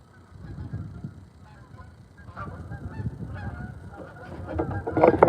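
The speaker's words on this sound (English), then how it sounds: "We got a lot of Canadian geese" Canada geese honk over water at dawn during trout fishing in southeastern Minnesota, a scattered chorus of calls at mid distance, growing busier and louder toward the end.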